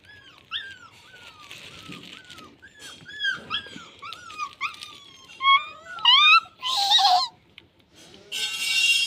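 Young puppies whimper and whine in a run of high, wavering cries, close and fairly loud, with a few squeakier yelps near the end and no talk.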